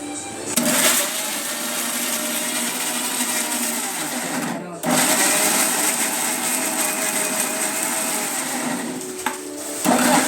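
A kitchen blender whirs loudly as it blends a shake, stopping briefly partway through before starting up again and running steadily to the end.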